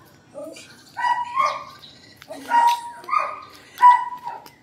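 A dog vocalizes nearby in a series of expressive whines and short yowling barks, about four separate bursts rising and falling in pitch, with brief pauses between them.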